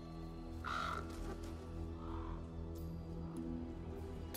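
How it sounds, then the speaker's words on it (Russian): Crows caw in an Apex Legends game trailer. A few harsh caws ring out at spaced intervals over a low ambient soundtrack, moderately close. "А вот и вороны."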